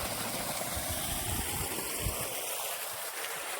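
A Jain 5 HP solar water pump draws from a well about 30 feet deep against a 30-metre head, its water rushing and gushing in a steady broadband stream, close and loud, with no voices.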